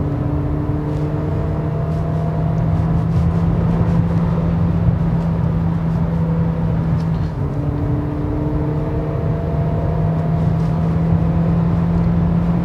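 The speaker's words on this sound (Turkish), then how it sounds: "Dediğim gibi motor sesi duyuyorsunuz, başka hiçbir şey duymuyorsunuz." Steady drone of a 2016 Audi A4 1.4 TFSI engine cruising at about 135 km/h, a constant low hum with faint harmonic tones and road noise, heard from inside the cabin with no talking.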